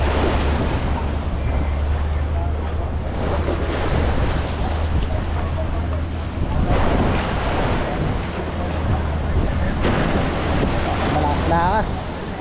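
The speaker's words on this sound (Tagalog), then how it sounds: "Lakas ang hangin." Strong wind buffets the microphone on a boat out on the Pacific Ocean while waves surge and splash, a loud continuous roar that swells and eases over the whole stretch.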